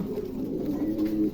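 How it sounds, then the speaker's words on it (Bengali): A red-patterned male short-faced pigeon coos steadily and close by, a low continuous throaty rolling with no voices present. "এটা নর কবুতর"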